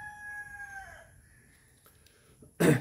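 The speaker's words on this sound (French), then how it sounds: "Le gars en arrière de moi, là, il y a 6 coqs de combat." Fighting roosters crow at a Philippine property, one long drawn-out crow at moderate distance, followed after a pause by a short loud burst of noise.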